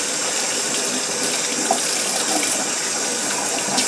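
A makeup brush is rinsed under a running tap, giving a steady, loud, continuous rush of water splashing into a sink with no talking.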